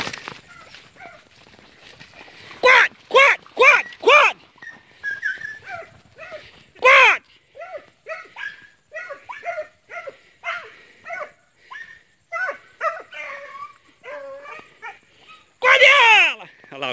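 A few sharp dog barks and yelps from hunting dogs near a reservoir, with whimpering and a voice calling out over them.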